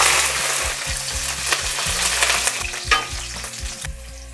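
Mustard seeds and garlic crackle and sizzle in hot sesame oil in a kadai, a steady dense frying hiss with sharp popping bursts scattered throughout, close and fairly loud, no voices.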